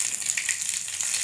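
Curry leaves and mustard seeds sizzle in about three spoons of hot sesame oil in a kadai, a soft, steady crackling hiss at low volume with no talk.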